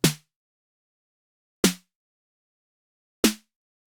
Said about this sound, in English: basically some sort of a 909 snare